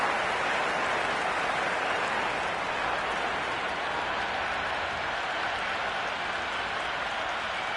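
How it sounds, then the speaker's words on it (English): A packed cricket stadium crowd gives off a dense, unbroken wash of buzzing noise and applause that holds steady and fills the whole span, with no single voice standing out. "There's a buzz, a real buzz coming from the stands."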